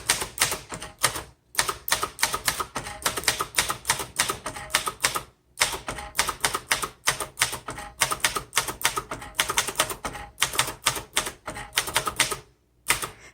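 Rapid, steady keystrokes from a 1969 Royal Lark portable typewriter clatter up close in loud bursts, broken by a few short pauses and carriage returns, with no voices.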